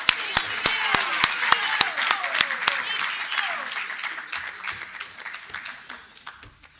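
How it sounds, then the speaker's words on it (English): A conference audience at a men's conference breaks into applause with sharp, evenly spaced claps at first. The clapping then thickens into a dense round that gradually fades. "can we put our hands together to give a round of applause?"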